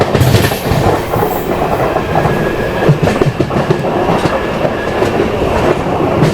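An Intercity Express train from Trivandrum to Trichy runs along the track with loud, continuous rumbling and rhythmic clickety-clack from the wheels, heard from on board with no talk.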